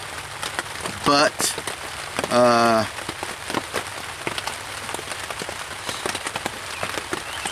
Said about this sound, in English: I didn't expect it to rain today.